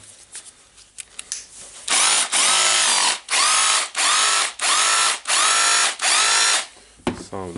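Repaired Makita DHR202 cordless rotary hammer running in six loud, close bursts of roughly a second each, with short pauses between, after quieter handling clatter at the start.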